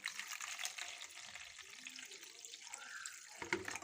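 A little water trickles into yeast paste to start a batter for Moroccan baghrir pancakes. It makes a faint, steady pouring and splashing sound, close and alone, with a small clink near the end.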